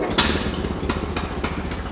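A 1941 Ford 9N tractor engine runs at a rough idle just after starting, a loud, close, steady low chugging with a regular uneven rhythm and no voices.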